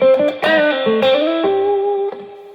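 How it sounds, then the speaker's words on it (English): An electric guitar played through an overdrive pedal with the volume turned all the way up, a few loud sustained notes and slides with a slightly gritty, dirty edge, ringing alone without talk. "what you want with an overdrive pedal"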